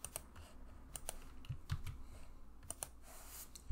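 Keys tap on a computer keyboard as a password is typed, a quiet, irregular run of soft clicks close by with a slightly louder thump at the end.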